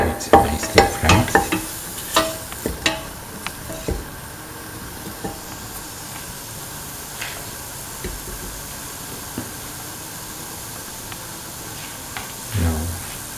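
Dates frying in a pan with salt: a burst of sharp stirring scrapes and clatters at first, easing into a soft, steady sizzle with occasional light knocks.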